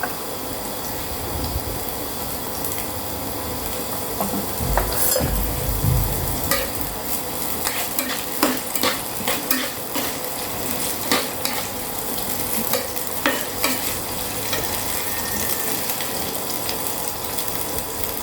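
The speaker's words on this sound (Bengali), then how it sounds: "তেল দিয়ে নিয়েছি, আমি এখন পেঁয়াজগুলো দিয়ে দিব।" Onions frying and sizzling in hot oil in a pot as they are stirred, a steady crackling hiss with scraping spoon strokes and occasional clinks, close and continuous with no talking.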